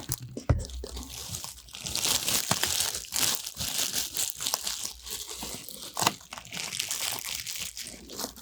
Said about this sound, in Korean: 비닐 소리도